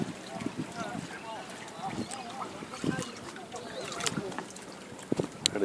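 Outdoors near Lisbon, rowing club boats head onto the water amid steady wind and water wash, with faint splashes and knocks while people talk nearby.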